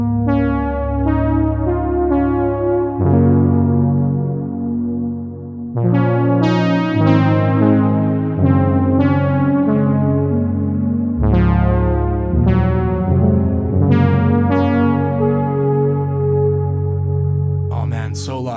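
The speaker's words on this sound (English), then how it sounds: "the plate algorithm is absolutely lovely on the Big Sky" Electric guitar played through a Strymon BigSky plug-in on its plate reverb setting, with bright tone and added modulation: a sequence of sustained chords and picked notes swelling into a lush, long-tailed wash, loud and continuous with no talking.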